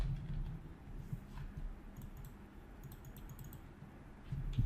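Light, irregular keystrokes on a computer keyboard while editing a web page, quiet and close against a soft background hum, with no one speaking.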